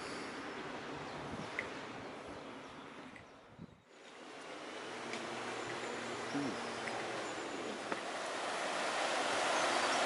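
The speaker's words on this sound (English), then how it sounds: "Just loving the sounds of the river today." Steady broadband rushing of a flowing river in the Wye Valley, close and continuous, with a brief dip partway through before the flow resumes.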